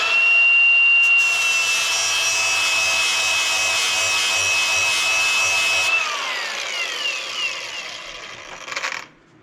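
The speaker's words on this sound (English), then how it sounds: "take our grinder." An angle grinder grinds a custom metal drawer pull for a log cabinet drawer face, giving a loud, steady high whine for about six seconds before it spins down and fades out.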